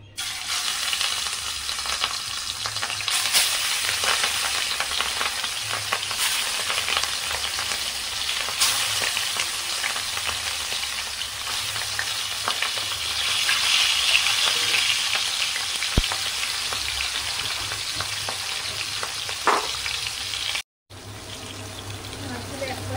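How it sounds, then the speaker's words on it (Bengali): Katla fish sizzles in hot oil in a wok, giving a loud, steady frying crackle with scattered spits that carries on for a long stretch, broken briefly by a short gap near the end. "এবার আমি মাছগুলো ভেজে নেব।"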